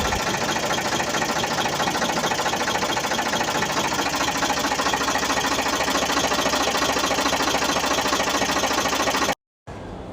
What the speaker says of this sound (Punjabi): ਸੁਣੋ ਕਿਰਾਂ ਟਰੈਕਟਰ ਦੀ ਆਵਾਜ਼